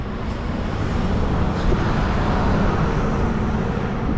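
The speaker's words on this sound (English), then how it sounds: "Buses behind me is what that noise was." Heavy road traffic of buses rumbles steadily nearby in a port area in Norway, a broad engine roar of large vehicles passing continuously, with no voices over it.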